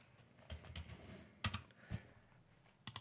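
Scattered keystrokes tap on a computer keyboard in a few short bursts, fairly close and light, with brief pauses between clusters and no talking.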